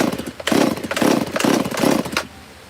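An off-brand chainsaw runs while custom steps are carved, revving in four strong pulsing surges close by before dropping away.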